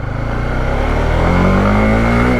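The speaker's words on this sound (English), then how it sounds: "I haven't seen anything start that smooth, and it revs equally smooth." A 2021 Honda CBR 150R motorcycle engine revs up close and loud, its steady drone rising smoothly in pitch over a couple of seconds before dipping at the end.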